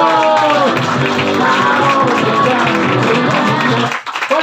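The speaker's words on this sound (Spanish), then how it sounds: "cuando diga Marcela, más fuerte los aplausos" Sustained crowd applause and clapping at an adult birthday party show, a dense, steady wash of claps lasting about four seconds before tapering off abruptly.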